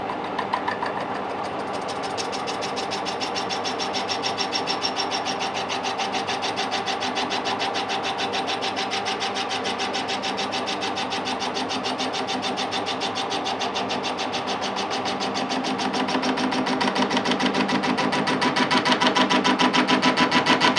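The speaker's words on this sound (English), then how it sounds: "I'll lock the lathe carriage off and just use the top slide to put the cut on with" Lathe machining a hardened gear with the top slide, a steady, loud mechanical drone with rapid rhythmic ticking that holds evenly throughout and swells slightly near the end.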